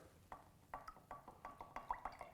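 Soda stirred into a cup of water, giving a steady series of light clinks and taps as the stirrer knocks against the cup, fairly quiet and close.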